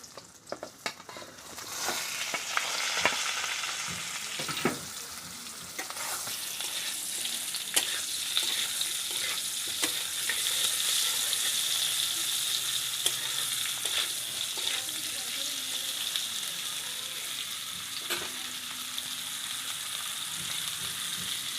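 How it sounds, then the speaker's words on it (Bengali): Cauliflower pieces fry in hot oil in a pan with a steady, close sizzle and crackle, while occasional stirring scrapes and clinks cut through the constant hiss. "ফুলকপিটা এটাকেও এখন আমি ভেজে নেব।"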